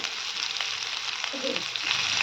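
Taro pieces fry in oil with a constant bright sizzle, and a spoon stirring through them adds soft scraping movements. It is close up, and no one speaks.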